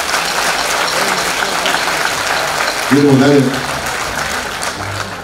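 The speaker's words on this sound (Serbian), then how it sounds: "jedan veliki aplauz za to da će sve to biti u redu" A concert audience at an outdoor charity event in Batočina gives a big round of steady, dense clapping that fills the whole stretch. A voice briefly cuts through near the middle.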